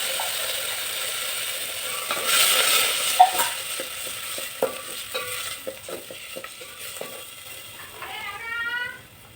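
Rice tipped into a pan with melted ghee and stirred, a spoon scraping and clinking against the pan in irregular strokes over a soft sizzle, close, with a brief squeak near the end.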